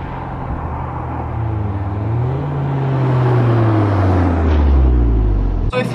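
Audi S1 with a 2-litre TFSI engine driving, its steady engine rumble rising and falling in pitch through gear changes as it accelerates, loud and close from inside the car, without talk.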